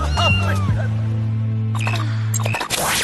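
Kittens in a French cartoon let out a few short, high meows over a sustained low musical tone, loud and close, with a bright burst of sound closing the moment.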